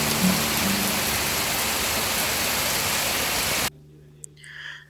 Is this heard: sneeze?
no